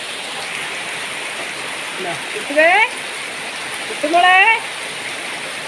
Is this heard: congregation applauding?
no